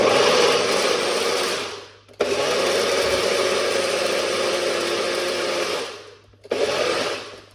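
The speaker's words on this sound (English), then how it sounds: "Let's blend it up, make a little bit of noise." A blender blending pomegranate juice whirs loudly in three bursts, starting and stopping, its motor roaring with a gritty, churning texture close by.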